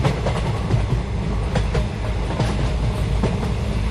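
A train comes in along a railway track with a steady heavy rumble and a rhythmic clickety-clack of wheels over the rail joints. It is loud and close, and nobody speaks.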